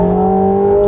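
McLaren 750S supercar engine revving close by with a steady, loud, deep-toned drone that holds strong harmonics throughout, with no talking.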